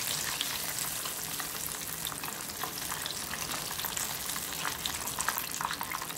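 Chicken wings fry in hot oil, Japanese karaage style, with a dense, steady sizzle full of rapid crackles and pops at close range, no talking.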